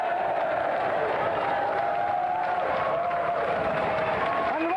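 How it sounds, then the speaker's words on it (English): A television game-show studio crowd applauds and cheers for a video-game champion. The clapping is steady and continuous, with a sustained tone gliding over it. "And a round of applause again for our champion"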